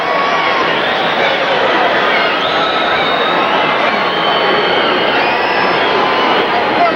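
Dense, steady roar of a large arena crowd filing out after a 2000 Pacers versus Heat basketball game at American Airlines Arena, a loud continuous murmur of many voices with no single standout sound.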